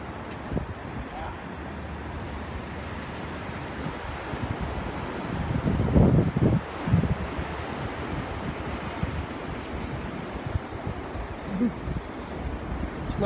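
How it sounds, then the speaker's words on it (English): Steady breezy wind buffeting the microphone on a Gulf beach, a continuous rough rush with faint surf beneath and a brief stronger gust in the middle. "It's nice and chilly and breezy."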